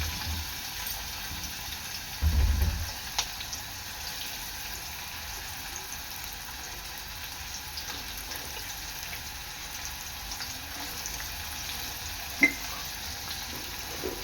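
Finely chopped onion dropped into hot oil for a Maggi masala dish, giving a brief burst and then a faint, steady low sizzle with an occasional small click.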